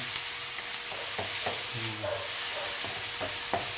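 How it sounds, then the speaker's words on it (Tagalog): A spoon stirs a bulang vegetable dish with crushed tomato in a pan, soft scrapes and knocks over a constant hiss of low sizzling, with no one talking. "Mix lang natin ito mga boss, mga ma'am."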